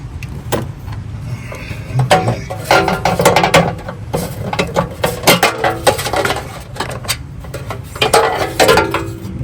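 A hand ratchet works three 10 millimeter nuts off a Toyota GR Corolla downpipe, loud close bursts of rapid metallic clicking repeated in short runs, with a few clanks of tools.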